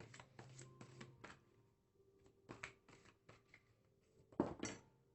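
Tarot cards shuffled by hand, giving close, quiet bursts of crisp riffling and slapping in short irregular clusters, with brief pauses between them.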